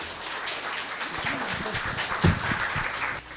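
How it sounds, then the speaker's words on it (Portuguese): An audience applauds a speaker at a Spiritist talk with sustained, fairly loud clapping throughout, and a brief murmur of voices beneath it midway. "uma salva de palmas para Gilvanise, acolhendo-a carinhosamente"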